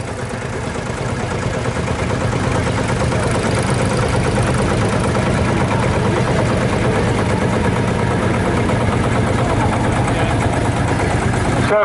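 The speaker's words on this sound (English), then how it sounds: "this is the New Holland TM165, which of course New Holland took over Ford" A New Holland TM165 tractor engine runs steadily at a country fair, with a loud, continuous diesel drone and idle throughout. There is no break in the sound.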